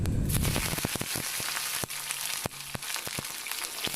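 Brinjal (eggplant) sautés in hot oil with a steady crackling sizzle, close and fairly loud, broken by sharp clicks and taps of a spatula against the pan.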